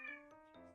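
A cat cries and meows in the background, giving several short, tonal, harmonic-rich calls in quick succession. The calls are faint and distant, with no talk over them.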